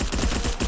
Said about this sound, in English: Hack SMG has a new sound